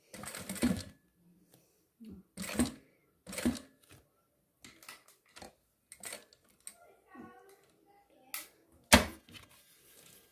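A sewing machine stitching a synthetic Montana leather wallet runs in short, separate bursts with quiet gaps between them, fairly close and moderately loud.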